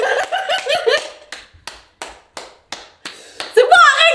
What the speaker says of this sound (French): Il faut que t'applaudis, ok? Applaudis.